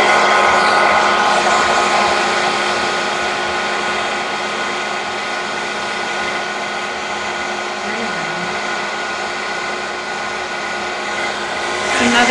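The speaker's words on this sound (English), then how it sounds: "Now they can only see the hair dryer." Hair dryer blowing on crayon wax to melt it during an art class, a steady, loud airflow whir held close throughout, with faint speech underneath.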